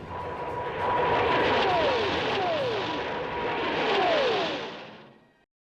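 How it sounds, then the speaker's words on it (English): An English Electric Lightning jet interceptor passes overhead, a loud droning engine roar with sweeping pitch shifts that swells twice and fades away at the end. "I present to you the English Electric Lightning."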